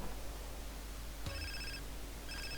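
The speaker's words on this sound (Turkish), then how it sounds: "Şu telefona bir cevap verelim." A telephone rings inside a house in GTA San Andreas, with two short bursts of electronic ringing over steady low background game hum.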